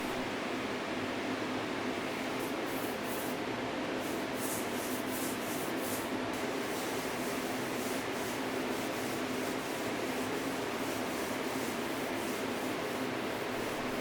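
Orbital sander working over a dresser with foam sanding pads and Cubitron abrasive, a steady continuous whirring rub that holds at an even level throughout, close up, with no talking.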